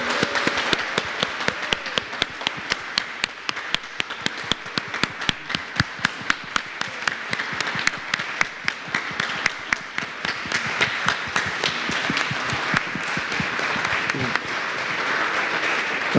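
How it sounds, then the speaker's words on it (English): A church congregation applauds its newest members, a dense steady wash of many hands clapping that lasts the whole stretch at an even level, with faint voices mixed in. "let us offer our warm applause to the newest members of the Unitarian Universalist Church of Fresno"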